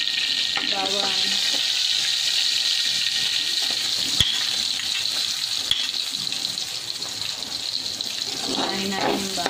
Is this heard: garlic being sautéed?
yes